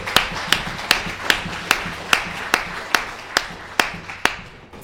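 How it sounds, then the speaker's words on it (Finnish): An audience applauds at a live talk show in Ziberia, a restaurant in Tampere, after a classical guitar performance: a steady, fairly soft wash of clapping with sharper claps standing out at an even, regular beat. "Annetaan nyt vielä aplodit."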